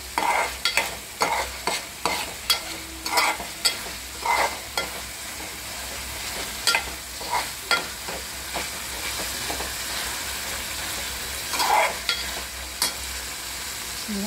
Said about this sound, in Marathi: हा मसाला गरम आणि थोडंसं भाजू द्यायचा।